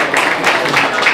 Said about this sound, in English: a huge round of applause for Khan Zaman sir